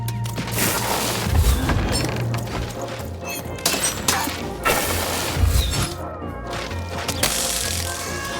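Crystals smashing in a video fight game, several crashes and shattering bursts spread through a dense, busy mix of game effects and impacts, loud and close.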